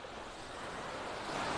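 Small waves wash steadily onto Vanderbilt Beach on the Gulf coast at Naples, Florida, a soft continuous hiss of surf that swells slightly louder toward the end.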